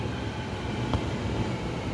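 An LRT train arrives at a station in Malaysia, a steady low rumble of rolling wheels and motors at moderate level with a brief clank partway through, no voices.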